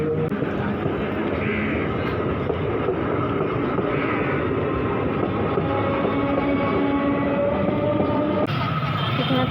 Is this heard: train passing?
yes